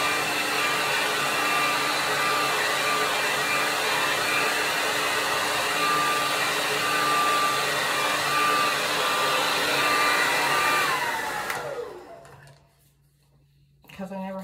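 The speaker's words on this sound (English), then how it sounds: "I only go through it with the blow dryer." A blow dryer runs steadily on hair with a loud, constant whirring hiss, then cuts off near the end, leaving quieter room sound.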